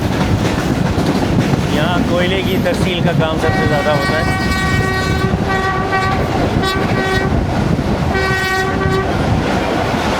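Pakistani passenger train (Pak Business Express) passing through Meting railway station, with steady loud rail rumble and clatter throughout and repeated horn toots in the second half; someone speaks over the noise.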